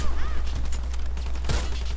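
Warface match gunfire crackles in a quick burst of shots, with one louder blast standing out amid steady game noise and a low hum.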